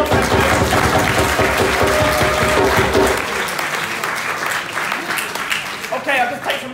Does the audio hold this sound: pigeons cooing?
no